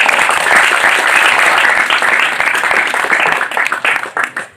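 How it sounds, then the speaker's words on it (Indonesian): A group applauds football players at a friendly gathering between two Padang clubs, loud close clapping that holds strong, then thins into scattered individual claps as it dies out. "Tepuk tangan dirimu loh"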